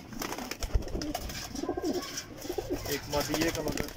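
Teddy pigeons, a golden teddy cross among parwazi flying pigeons, coo softly in a loft, a few low murmuring calls repeating close by while someone talks over them.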